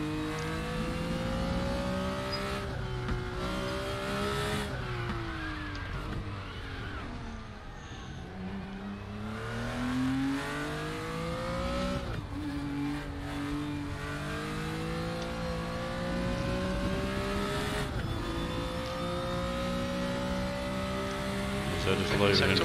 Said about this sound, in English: You can just hear the brakes protesting this thing